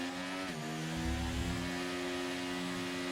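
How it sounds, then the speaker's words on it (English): A Formula 1 race car engine in the F1 23 video game holds a high, steady whining rev with stable harmonic tones, dipping briefly and then settling again, loud and continuous with no talking. "I'm kind of tired of hearing my fucking engine revving."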